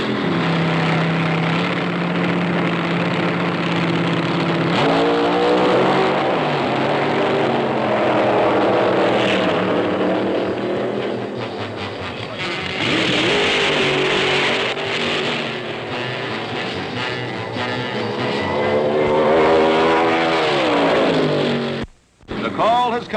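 Hot rod drag racing cars on the strip in 1965, sustained roaring engines rising and falling in pitch as cars accelerate, with a narrator talking over the noise.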